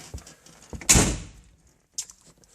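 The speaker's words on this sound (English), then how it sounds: "Doors shut nice." A 1966 Plymouth Sport Fury convertible door swings shut with one solid, close thunk, followed by a brief fainter latch click a second later.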